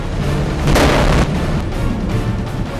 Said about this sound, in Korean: 갑자기 터진 폭발음